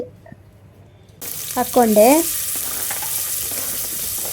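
Chopped onions frying in oil inside a pressure cooker on a gas stove, a steady close hiss of sizzling that begins abruptly and continues, with brief stirring clatter and a voice talking over it early on.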